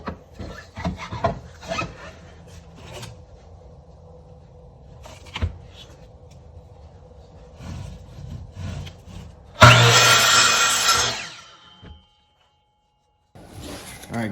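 A hand saw makes a straight cut through a small piece of wood. Scattered handling noises lead into a loud burst of sawing strokes lasting about two seconds, followed by silence.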